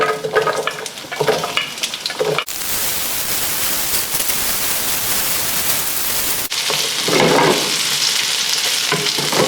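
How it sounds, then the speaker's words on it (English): Onion rings sautéing in canola oil in a preheated pan, a loud, continuous broadband sizzle like static that holds steady for several seconds, with stirring and pan clatter before and after. "add in some canola oil. Then saute your onion rings"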